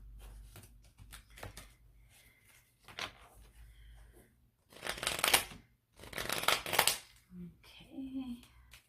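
Tarot cards are shuffled close by in soft, papery riffles and slides, with louder bursts near the end and a voice speaking quietly in between.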